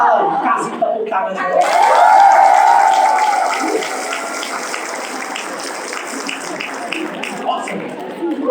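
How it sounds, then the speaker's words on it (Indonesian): An indoor seminar audience bursts into applause that swells quickly and stays dense for several seconds before thinning out, with a voice speaking over the clapping near its start. "Kasih tepuk tangan."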